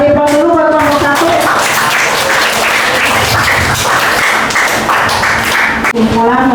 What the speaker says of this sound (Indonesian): Kita kasih aplaus dulu buat kelompok 1.